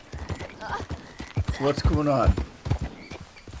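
Horse hooves clip-clopping with a brief whinny from a horse in the Red Dead Redemption 2 video game, heard beneath and between close, overlapping talk from characters.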